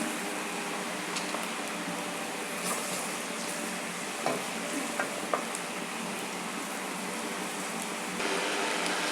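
Ginger garlic paste sizzles steadily with onions in a hot pan, a constant close frying hiss broken by a few sharp clinks of stirring.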